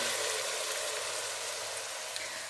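Onions frying in a pan during chicken biryani cooking, a continuous dense hiss of sizzling oil that stays steady and close, with no other sounds.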